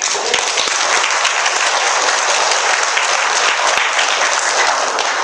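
An audience applauding during a talk at a Catholic retreat, sustained loud dense clapping throughout with no break.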